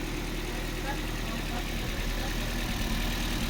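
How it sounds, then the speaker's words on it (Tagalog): A Ford Fiesta automatic car engine runs at idle with a continuous low rumble and steady hum, unchanging throughout. "umaandar na ang makina yan"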